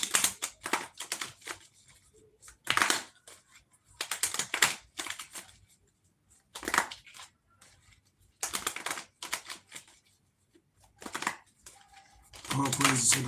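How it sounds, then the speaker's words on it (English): Tarot cards being shuffled in repeated short bursts of riffling and slapping, separated by quiet gaps, fairly close and moderately loud; a voice speaks briefly between the bursts. "Shuffle it 13 times."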